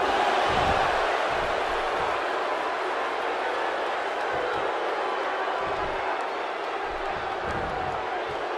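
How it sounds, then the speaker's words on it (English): Arena crowd noise from the WWE 2K16 video game during a Faarooq vs Mankind Raw match, a steady roaring cheer that fills the whole stretch without letting up. "by the sound of this crowd, I think they're getting what they wanted"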